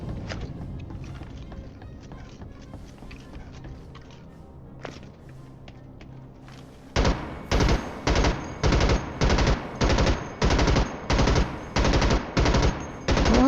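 Gunfire at a shooting range in the video game Starship Troopers Extermination: faint scattered shots at first, then a loud, evenly spaced series of about a dozen heavy bursts.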